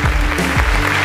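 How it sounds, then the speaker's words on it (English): Applause during a guitar reaction show, heard as a steady, loud wash of clapping across the whole short moment with low rumbling underneath. "So I want to give applause to them."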